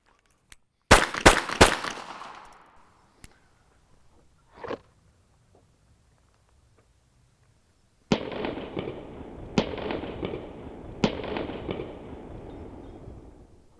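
Pistol fire during a three-round close-retention drill: a rapid burst of three loud, sharp cracks near the start, then three more evenly spaced shots later, each trailing off in a ringing echo.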